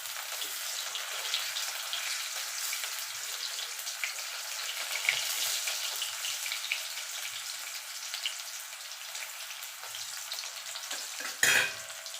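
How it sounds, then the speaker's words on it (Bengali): Potato pieces fry in oil for a spicy Bengali egg curry, giving a continuous bright sizzle that stays close and even, with a brief clatter near the end. "এবার আলুটাকে আমি একটু লাল লাল করে ভাজবো।"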